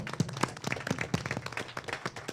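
A crowd at a community college board of trustees meeting claps steadily, a dense patter of many hands applauding at moderate volume without any talking.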